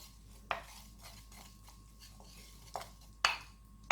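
Spoon scraping and clinking against a bowl while a homemade Aztec clay face mask is stirred, with a few sharper taps standing out over quiet, steady mixing; no talking.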